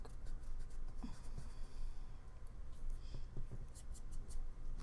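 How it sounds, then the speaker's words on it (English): Soft repeated scratchy rubbing of erasing paint on a decorative painting, close and faint, in an irregular back-and-forth rhythm without talk. "I'm going to kind of erase a little bit of this because it's a little dark"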